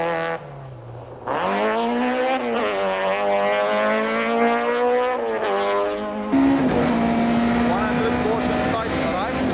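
A 1995 Nissan rally car engine strains hard up a mountain trail, its revs climbing in long sustained pulls and shifting pitch near the close, loud and close throughout.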